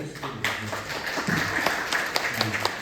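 A church congregation claps together after a call to give thanks, a fairly dense burst of hand claps at moderate distance with some scattered voices and murmur mixed in.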